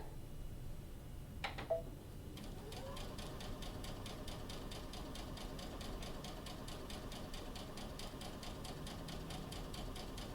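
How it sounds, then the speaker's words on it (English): An Aveneer sewing machine stitches two fabric pieces together along a quarter-inch seam, its needle chattering in a steady, fast, even rhythm after a brief start, running close and continuous. "jump over to our Aveneer to be able to sew this together"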